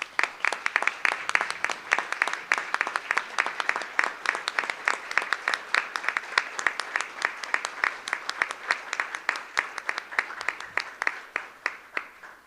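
Sustained applause from a Board of Education meeting audience honoring crossing guards, a steady crowd of clapping with sharp, close individual claps running throughout, tapering slightly near the end.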